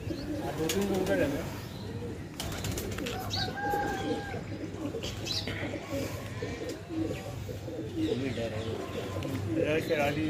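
Domestic pigeons in a fancier's flock of colourful birds coo repeatedly nearby, with flutters and a busy murmur of people talking throughout.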